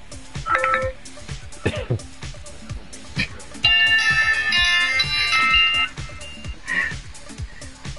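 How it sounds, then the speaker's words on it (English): A phone rings with a bright electronic jingle in the middle of a room, loud and sustained for about two seconds, between bursts of people talking and laughing nearby. "Whose phone is jingling?"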